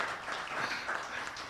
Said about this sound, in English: So just continue clapping for her.